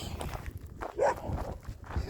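A dog passed on a walk gives a brief whine and scuffling sounds at close range, low and fairly faint, with footsteps and someone talking over it.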